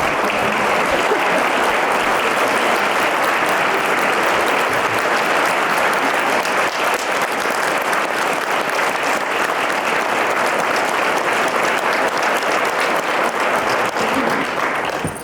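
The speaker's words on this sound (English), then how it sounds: "So I want a round of applause." Sustained audience applause at a company gathering in Florida, dense even clapping that continues loudly for about fifteen seconds without a break.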